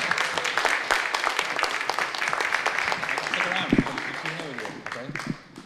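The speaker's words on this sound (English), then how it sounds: "How about a round of applause, Mr. Kevin Barrett?" Audience applause at a Northeast Queens Tea Party event, a steady, fairly loud patter of clapping from a crowd, with voices mixed in underneath, fading near the end.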